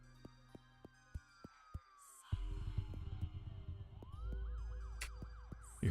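Sirens wailing in an indie horror video game, rising and falling tones over a low rumble, preceded by sparse sharp clicks and blips, moderately loud with no speech.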